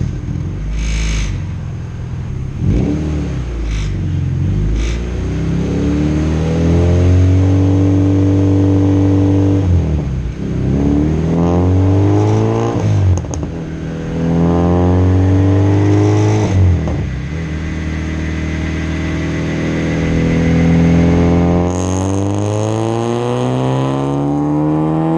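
A 197-horsepower all-motor LSVtec engine running on E85 revs hard on the street, climbing through repeated rising pulls with brief dips at each shift, loud and close throughout with no voices.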